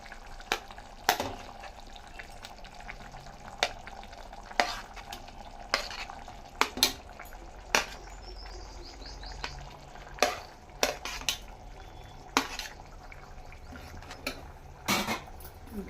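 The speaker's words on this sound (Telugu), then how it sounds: "ఇంకా కలుపుకోవాలి మంచిగా." Mutton keema masala with tomato is stirred in a frying pan, giving a soft low sizzle broken by repeated sharp scrapes and knocks of a spoon against the pan at an irregular rhythm, close and fairly quiet.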